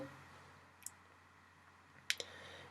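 Two soft computer mouse clicks, one near the start and a slightly louder double click later, sound over a steady low electrical hum in a quiet room.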